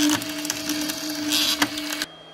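An Artillery Sidewinder X4 Plus 3D printer with a 0.4 mm nozzle printing at 0.2 mm layer height, heard close as a steady whirring of stepper motors with clicking movement changes before it stops abruptly.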